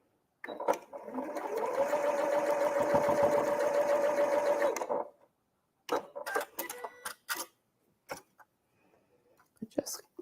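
A home sewing machine fitted with a 1/4 inch foot stitches a quarter-inch seam on quilt fabric, a steady close whirring run of about four seconds, followed by scattered clicks and handling noises.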